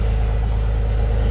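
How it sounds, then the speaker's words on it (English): A Jeep WJ engine idling on a cold start after new injectors were fitted: a steady, loud, low rumble with an even hum and no speech. "Right now it is a cold start too"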